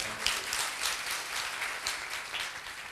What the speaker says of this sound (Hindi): ताली बजा के परमेश्वर का धन्यवाद करें।